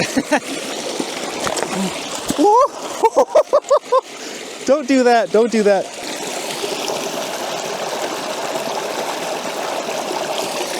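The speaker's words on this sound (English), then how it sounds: "Now if you've got falling water like this, it's even easier." Falling water pours into a bottle outdoors while backpacking, a steady close splashing trickle that runs throughout, with someone speaking briefly over it partway through.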